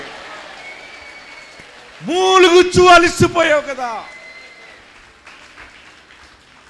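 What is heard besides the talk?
congregation clapping hands after saying hallelujah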